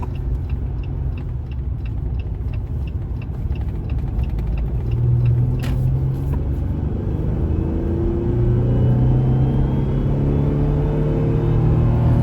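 A Jeep Gladiator V6 towing a heavy load accelerates onto a freeway, giving a loud, steady engine rumble with a droning pitch that rises and holds throughout, with no talking.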